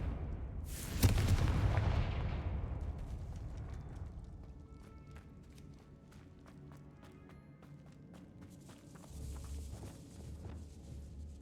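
A Confringo spell explodes in Hogwarts Legacy with one sharp, loud boom that rolls off slowly, followed by quieter clattering and thuds.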